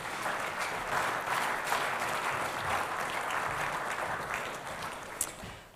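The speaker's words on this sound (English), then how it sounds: "if we could just give them all a round of applause and thank them" A seated audience applauds presenters at the close of an afternoon panel session at a pastures research update in the Riverina, a moderate, steady clapping that holds for several seconds before tapering off.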